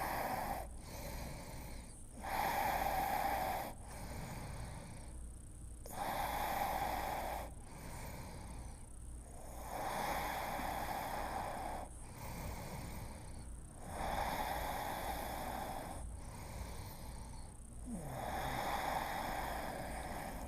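Slow, deep breaths during a yoga stretch for hips and hamstrings, with long soft inhales and exhales in a steady cycle of about six, quiet and close.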